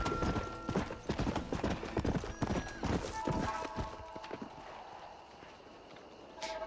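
Horse hooves clip-clop in a rapid, uneven rhythm in the Red Dead Redemption video game, loud and close before trailing off into quieter ambience, with game sounds mixed in.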